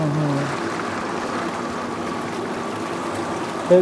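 Steady churning water rushes continuously over a low double-motor hum from a fibreglass bathtub's jets, fairly close, with no voices.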